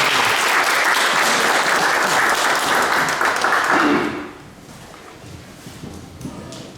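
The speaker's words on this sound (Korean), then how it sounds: "선생님을 큰 박수로 맞아주시기 바랍니다." Audience applause welcoming a speaker at a lecture, loud sustained clapping from a crowd that cuts off sharply after about four seconds, leaving faint room noise and shuffling.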